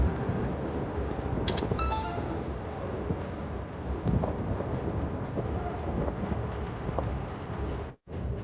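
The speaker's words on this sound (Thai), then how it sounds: "อ๋อรถไฟมาอีกแล้วพอดีเลยเนี่ยแป๊บเดียวก็มา" A Bangkok skytrain pulls into a station with a steady low rumble and broadband rolling noise throughout, brief tonal chimes or squeals early on, and crowd ambience; no speech.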